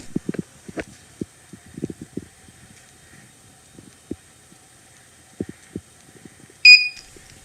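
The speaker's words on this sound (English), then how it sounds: "Ooh, we've got the beep," Hikvision NVR giving a single short electronic beep as it powers on, clear and close near the end, after several seconds of faint scattered clicks and handling noises.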